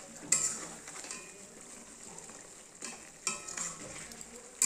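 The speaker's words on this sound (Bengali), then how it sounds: "বেরেস্তাকে দিয়ে ভালো করে মাংসটাকে একটু নাড়িয়ে দেবো।" Chicken being stirred with fried onions in a pan, soft scraping and light sizzling with a few sharp clinks of the spoon against the pan, fairly quiet and close.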